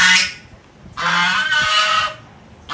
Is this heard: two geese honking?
yes